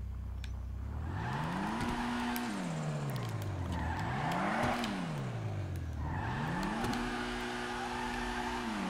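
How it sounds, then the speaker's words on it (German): Turbocharged Dinka Blista Kanjo in GTA 5 revving repeatedly, its engine note climbing and falling in three wavering sweeps with turbo whine and a steady loud roar throughout, no talking. "Der Turbo hört sich richtig geil an."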